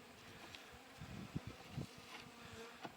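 Honey bees buzz inside a spring hive with a small cluster, a faint, steady low hum with a few slightly louder swells close to the microphone.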